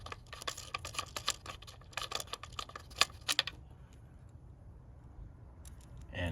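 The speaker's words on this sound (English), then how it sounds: "And it should rattle like that." A PCV valve pulled from a 2018 Kia Forte rattles in a quick run of small, dry clicks as it is shaken by hand, then goes quiet.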